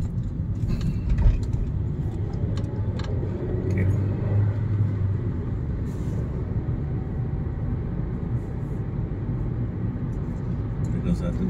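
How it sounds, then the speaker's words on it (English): Low rumbling traffic of cars moving through a Copenhagen city square, a steady close engine drone with occasional knocks and rattles, heard from inside a vehicle while people talk over it. "because I have a lot of cars coming."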